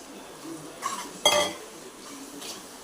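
Spoon stirring carrots, peas and beans into a masala in a pan for a mushroom gravy, with a few soft scrapes and one sharp metallic clink, close and fairly quiet.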